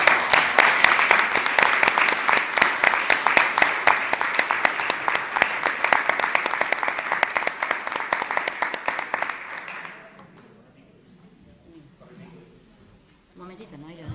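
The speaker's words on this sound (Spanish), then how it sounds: "Un aplauso a vosotros por aguantar." A conference audience at a Catholic brotherhood lecture series claps loudly and steadily for about ten seconds, then the applause stops abruptly, leaving quiet room sound and faint talking.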